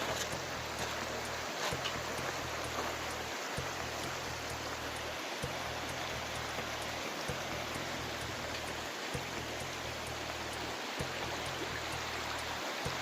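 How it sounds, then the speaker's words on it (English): A river flowing beside a hiking trail on the Pacific Crest Trail, a steady broadband rush of water running unbroken and fairly close, with a repeating low rumble underneath and no talking. "River flowing, we just head across again right over here."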